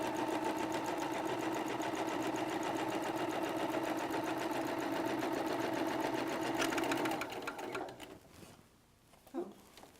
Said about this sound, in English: And then you'll just finish doing the seam to sew those blocks together.